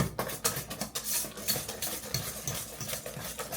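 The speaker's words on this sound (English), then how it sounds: "Just gonna mix this up real good." Gluten-free gingerbread dough being stirred in a bowl, a steady scraping and churning with rhythmic strokes, close and fairly loud, with no talking.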